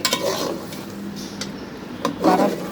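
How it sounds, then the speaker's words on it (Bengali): Papaya and potatoes being stirred into a pot of browned country chicken: soft scraping and rubbing of a spoon against the pot, with a faint sizzle and a few louder clinks near the end, close by and with no talk. "ভালো করে নাড়াচাড়াতে মিক্স করব"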